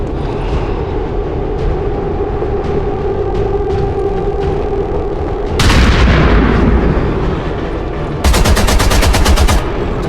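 Automatic-weapon gunfire in the video game XCOM 2, a loud burst of rapid shots standing out over a steady game soundtrack, followed by a second sharp volley near the end.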